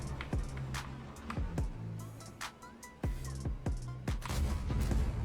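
Repeated heavy booming tank cannon shots in World of Tanks with sharp attacks, several in quick succession, among game engine rumble and clanks.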